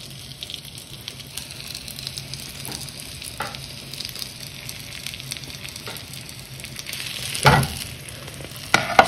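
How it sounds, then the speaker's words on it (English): Garlic and zucchini sizzle in extra virgin olive oil in a pan, a steady close frying hiss that flares louder with a few stirring clatters near the end, with no talk. "now the garlic is sizzling, and I'm going to add the zucchini,"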